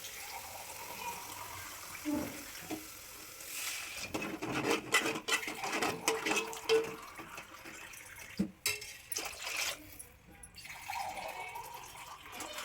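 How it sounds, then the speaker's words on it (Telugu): Water pours and splashes into a pot of sambar over cooked lentils, a steady uneven trickling that rises and falls for several seconds with a few brief drips near the end. "సాంబార్ కదండి వాటర్ కొంచెం ఎక్కువనే వేసుకోవాలి"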